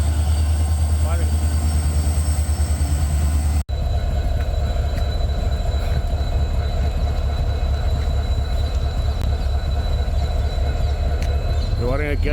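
A train rolls past an open, ungated railway level crossing in Ramanathapuram, a loud steady rumble of wagons and wheels running throughout with a brief cut partway, while people talk over it.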